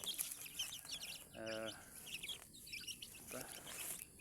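Free-range village chicks cluck and peep among the soil as someone digs the ground for termites. Short harmonic calls come in a brief cluster, then a fainter one later, over steady outdoor background noise.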